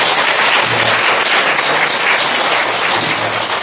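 Congregation at a Sunday worship service applauds a departing family, steady full-room clapping that stays loud and even from start to finish.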